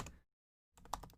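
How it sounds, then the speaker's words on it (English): Someone types on a computer keyboard, a quick burst of light clicks near at hand, preceded by a short trailing sound and a brief silence. "and I start typing"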